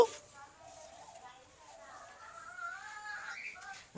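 Chickens cluck and call faintly on a farm, a bird's wavering cries rising near the end, while someone talks over them.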